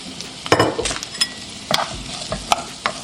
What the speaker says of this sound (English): Just gonna saute the carrots